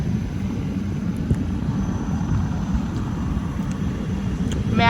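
An airplane passes overhead at Baina beach, a steady, fairly loud broadband drone that holds evenly and swells slightly toward the end, with no talk.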